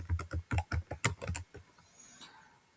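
Rapid keystrokes on a computer keyboard as a password is entered, a quick run of about a dozen distinct clicks, close and crisp, then stopping into quiet room tone.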